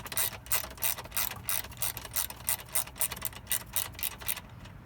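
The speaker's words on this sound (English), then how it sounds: "so I'm going to hold the bolt and turn the nut" Ratcheting clicks from a wrench turning a nut on a motorcycle exhaust hanger bolt on a Honda CB300R, a steady run of close, crisp ticks that stops near the end.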